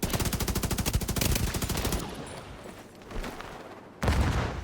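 Rapid automatic turret gunfire in The Division 2, a dense burst of sharp evenly spaced shots for about two seconds, then a lull of scattered rumbling impacts before another loud burst starts near the end.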